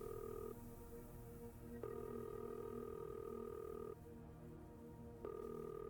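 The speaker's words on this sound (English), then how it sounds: "Oh, it's ringing." A telephone ringing tone repeats in long steady tonal bursts separated by short gaps, clear and fairly quiet with no talking.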